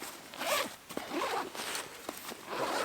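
The main compartment of a day hike backpack is unzipped in several loud, rasping pulls, close up and without any talk.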